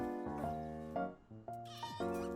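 Cat creature in the video game Palworld meowing, a quick series of about four close, clear, tonal mews in succession with no talk over them.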